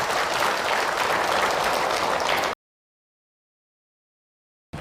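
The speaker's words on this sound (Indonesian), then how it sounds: "Tepuk tangan buat bunda yang bertanya." A congregation at an Islamic religious talk bursts into loud, dense applause for a woman who asked a question. The clapping runs steadily for a couple of seconds and then cuts off abruptly to silence.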